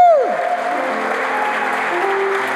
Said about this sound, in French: Pero grande el aplauso.